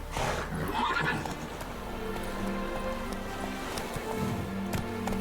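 Roach, the horse in The Witcher 3, neighs loudly at the start, then hoofbeats clip-clop along at a gallop under faint game music and ambient rustle.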